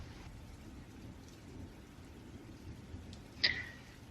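Steady rain falls as a soft ambient wash while thunder rumbles low throughout, with a sharper crack near the end, no voices present.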